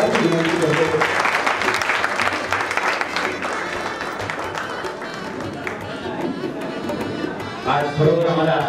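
An audience applauds at a guru-honouring ceremony with bhajan singers, a dense, continuous clapping that holds steady, then thins toward the end as a voice comes in.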